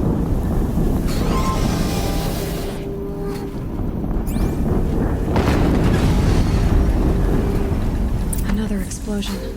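Repeated explosions booming through a Horizon Zero Dawn battle, a broad roar of rumbling blasts filling the scene under steady game noise and some talking.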